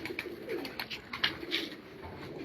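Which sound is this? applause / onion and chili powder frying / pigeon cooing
pigeon cooing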